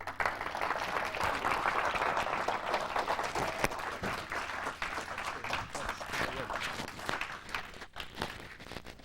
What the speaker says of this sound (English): give him a big round of applause because he deserves it